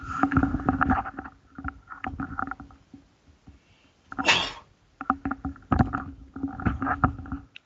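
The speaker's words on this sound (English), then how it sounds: "I'm going to sneeze" A single loud sneeze bursts out midway, surrounded by ongoing close speech and some rustling.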